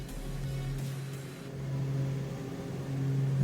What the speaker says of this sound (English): Bring the engine back up.